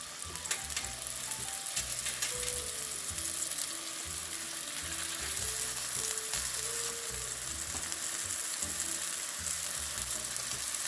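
Chicken burger patties frying in a pan, giving a steady, dense crackling sizzle that carries on unbroken, close by with no talking.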